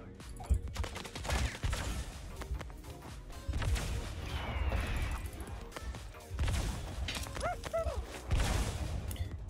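Explosive bursts and crashes in the Zooba mobile battle game, several sharp booms spaced through the clip amid busy game effects, moderately loud, with a faint voice now and then.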